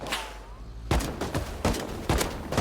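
Gunfire in a first-person shooter game comes as several sharp, loud shots after a brief lull, spaced irregularly over a low background.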